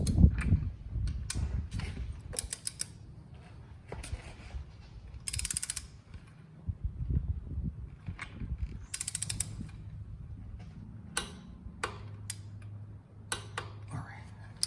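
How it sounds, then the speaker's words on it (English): A torque wrench with a 5/8 socket set to 15 foot-pounds tightens primary cover bolts on a Harley-Davidson Dyna Street Bob, giving scattered close metallic ratchet clicks and taps over a low handling rumble. "Now I'm going to take my 5/8 socket head with my torque wrench, and again I have mine set at 15 foot-pounds."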